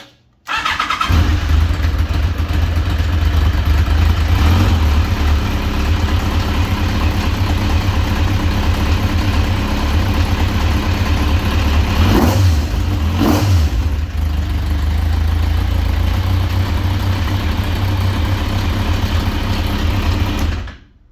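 Kawasaki Concours motorcycle engine running on Speeduino fuel injection fires up from cold and settles into a steady, loud, close idle that runs continuously, with a couple of brief blips near the middle.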